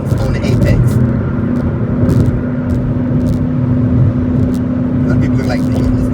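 A car cruising at 85 mph on a Houston highway, giving a steady loud road and engine drone with a constant tonal hum and wind noise from inside the cabin, while someone talks over it.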